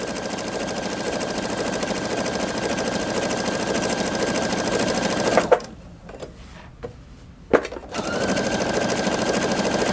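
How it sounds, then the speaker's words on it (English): A Pfaff Creative 3.0 sewing machine stitches an applique pin stitch, running steadily and close with a fast mechanical rhythm, then stops briefly before resuming. "One of my favorites is this little applique pin stitch."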